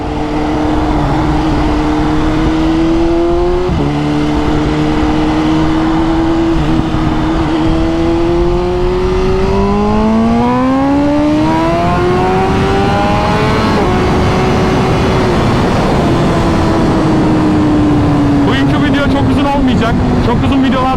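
A heavy truck drives past on the road, its engine drone rising and shifting in pitch as it nears and pulls away, loud and continuous throughout.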